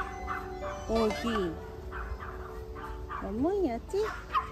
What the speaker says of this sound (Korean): 멍멍이었지?